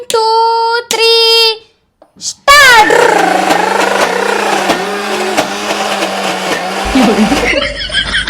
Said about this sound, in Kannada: ಇದು ಬ್ಯಾಳಿ ಬೆಲ್ಲ ಎಲ್ಲ ಮಿಕ್ಸಿ ಒಳಗೆ ರುಬ್ಕೊಂಡು ಸಣ್ಣಂಗೆ ರುಬ್ಕೊಂಡು ಐತ್ರಿ